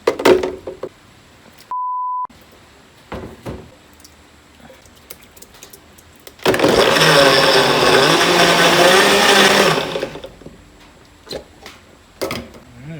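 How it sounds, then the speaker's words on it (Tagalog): A brief electronic beep, then a blender whirs loudly for about three seconds before stopping, with scattered clinks and clicks around it. "So malamig na ang ating mixture, pwede natin i-blender."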